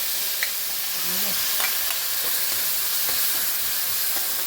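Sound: pounded chili paste frying in hot oil

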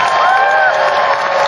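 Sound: fans applauding and cheering at a farewell event

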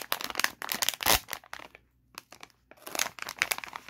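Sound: opening a small trading card booster pack

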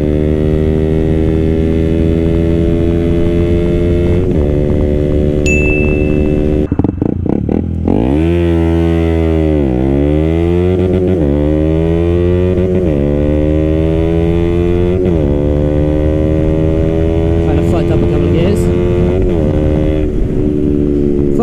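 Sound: KTM Duke 125 motorcycle accelerating hard, hitting the rev limiter

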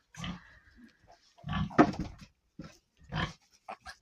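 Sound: piglets grunting

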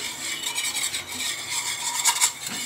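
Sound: stirring thickened milk with a hand whisk

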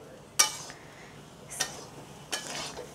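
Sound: stirring onions into chana dal in a pan

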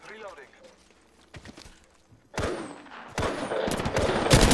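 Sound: gunfire in the video game Apex Legends

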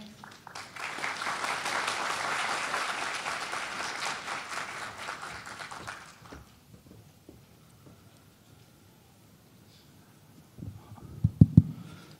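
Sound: applause

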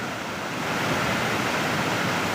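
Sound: waterfall

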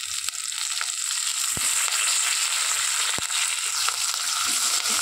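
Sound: onions and tomatoes frying in a pan

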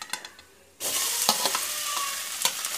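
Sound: mashed potato with spices frying and stirred in oil

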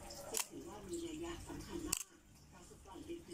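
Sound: Nikon FA camera shutter firing on bulb setting

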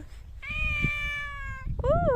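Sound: cat meowing

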